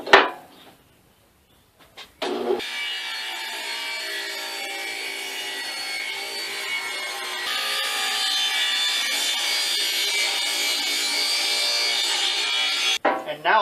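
Hand sawing through wood with a square edge, a steady rasping back-and-forth stroke running close and loud for about ten seconds after a few brief knocks, ending abruptly.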